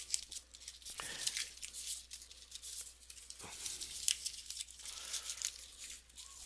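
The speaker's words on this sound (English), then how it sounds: "What I'm going to do is I'm going to crumple them up." Small slips of paper being crumpled by hand, soft crinkling and tearing rustles in short close bursts with quiet pauses between, fairly faint.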